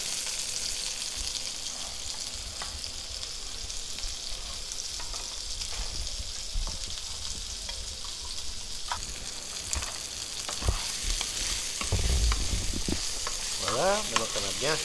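Rice and asparagus tips frying in a pan while being stirred, with a continuous hiss of sizzling and occasional scraping and clinking of the utensil, growing busier and louder toward the end.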